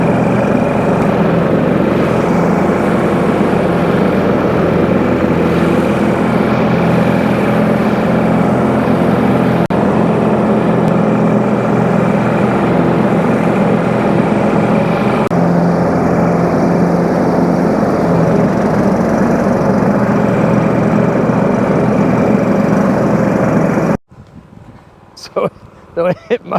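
A lawn mower runs steadily while cutting tall, wet grass, a loud and continuous engine drone that carries on for most of the stretch and then drops away near the end. Voices come through under the noise.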